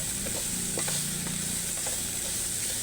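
Ground pork sautéing in a pan, a steady sizzle with a few light stirring scrapes, close and continuous.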